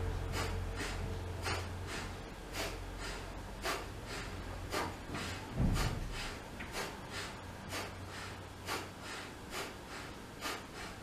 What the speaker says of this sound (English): So you're breathing in, forcing the air out.